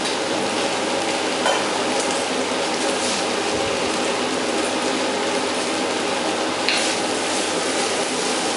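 Broccoli kofta mixture with spices cooking in a pan, giving a steady, dense sizzle with soft stirring scrapes, close and continuous throughout with no voices.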